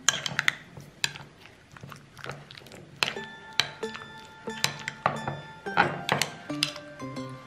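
Vegetables are stirred into mayonnaise in a bowl, with a spoon clinking and knocking irregularly against the dish, producing bright ringing taps close by.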